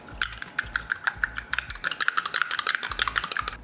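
Rapid rhythmic clicking of a whisk or fork beating a single cracked egg in a bowl, as wet ingredients are readied for spice buns; quick, close, regular strokes with brief pauses between bursts.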